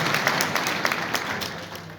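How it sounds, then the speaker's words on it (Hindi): Audience applause for an ITBP commandant at a gathering, a steady dense wash of clapping from many hands, moderately loud and continuous throughout. "आईटीबीपी के कमांडेंट है, तो ताली ना क्यों ना बजाया जाए"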